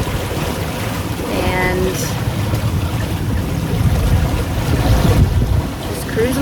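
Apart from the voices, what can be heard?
sailboat cruising with main sail up and motor on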